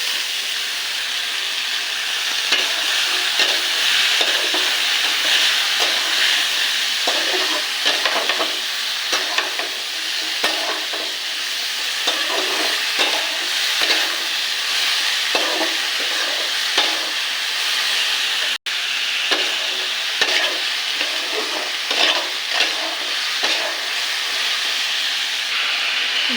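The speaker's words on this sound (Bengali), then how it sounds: "আলু লম্বা লম্বা করে কেটে রেখেছি আলু ভাজার মতো, এটাকে কড়াইতে দিয়ে দেবো" Potato strips cut into long pieces fry in a wok, giving a continuous loud sizzle and hiss broken by intermittent scraping stirs throughout, with no one talking.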